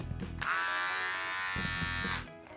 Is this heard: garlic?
no